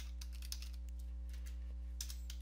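Rapid clicking keystrokes on a computer keyboard entering a search term into a browser settings page, a close, even run of light taps with a couple of firmer key presses and no voices.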